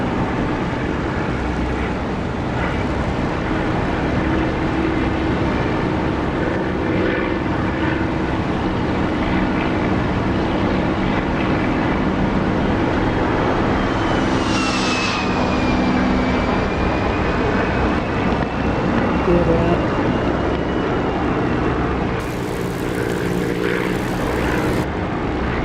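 Steady propeller aircraft engine drones continuously through a landing approach in a DCS flight simulator, loud and even throughout, with a brief whooshing swell midway and no voices.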